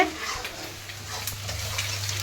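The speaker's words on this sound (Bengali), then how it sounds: "এই যে মশলাটা কষাচ্ছে" Spices for chicken frying in a pan while being stirred, a steady soft sizzle with light scraping clinks and a low hum underneath, close and moderately quiet.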